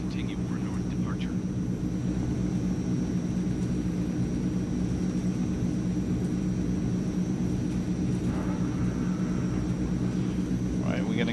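Turboprop engines of a Transall C160 cargo plane hum in a steady, even drone during the climb in Microsoft Flight Simulator, heard from the cockpit at moderate, unchanging volume throughout.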